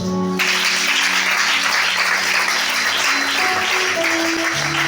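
Church congregation at a Sunday worship service in Libreville, Gabon, applauding in a loud, steady wash of clapping that fills the whole stretch, with organ or keyboard tones sustained underneath.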